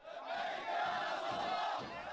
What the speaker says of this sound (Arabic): وردد المتظاهرون هتافات لبيك يا نصر الله